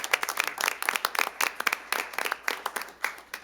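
A small audience at a city council meeting claps in a scattered, uneven patter, individual hand claps distinct and fairly close, lasting a few seconds.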